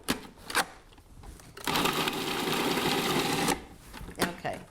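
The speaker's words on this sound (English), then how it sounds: "You don't have to chop it so fine because the food processor is going to do all the work." Food processor grinding minced garlic, a steady loud whirring buzz that runs for about two seconds between short clicks and knocks of handling before and after.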